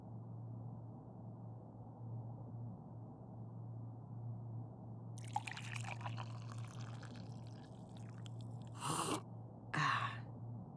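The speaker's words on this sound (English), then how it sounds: "A thermos, presumably filled with coffee." Coffee pours from a thermos in the video game Whispers of a Machine, a brief splashing stream over a quiet low hum. Two short, breathy exhales follow a moment later.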